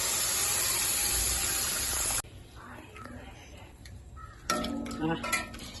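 Steady broadband rush of tamarind water pouring into a curry for about two seconds, then quieter clinks and brief splashes.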